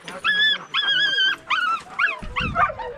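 Sled dogs in winter yip, whine and howl in excited bursts close by, with a person's voice calling out among them.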